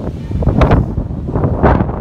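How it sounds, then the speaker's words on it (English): Loud gusts of wind on an open allotment buffet the microphone in rough, rumbling waves, rising and falling over a couple of seconds. "It is windy."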